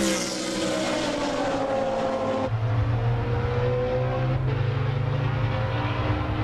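A GT1 race car runs down the back straight, its engine a loud, sustained drone close by. About midway the pitch drops abruptly and then holds a lower, rising note as it keeps pulling away down the straight.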